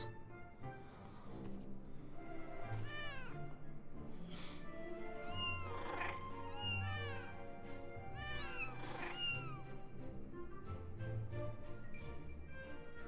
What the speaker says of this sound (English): I legitimately thought the cat was going to be important.